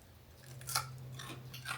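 Crunchy dehydrated carnivore meat crackers, made from thinly sliced meat, are chewed close to the microphone, giving a few quiet crisp bites and crunches over a faint steady hum.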